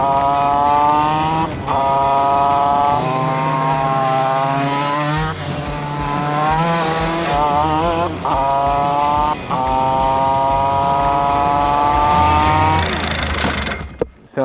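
A powerful racing go-kart engine screams close and loud, revving up through high rpm in repeated rising sweeps with brief drops between pulls, sustained and harsh throughout.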